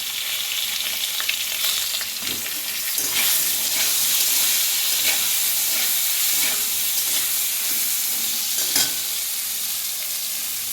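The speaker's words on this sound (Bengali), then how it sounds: "প্রথমেই আমি কিন্তু বেগুনটা দিয়ে দিলাম কড়াইতে" Eggplant and other vegetables sautéing in hot oil in a wok for a Bengali shukto, a steady loud sizzle and crackle with scattered stirring scrapes and clinks running throughout, no voices.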